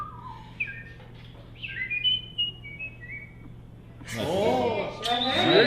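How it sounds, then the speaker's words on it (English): A person whistles at a whistling convention, first a run of short, bright, bird-like trills, then a louder, sweeping warbling passage near the end, close and alone against a low background hum. "you ready? Whistle."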